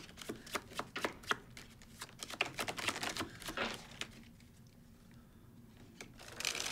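Quick riffling clicks of playing cards being shuffled in a few short bursts, close and fairly quiet, followed by softer handling.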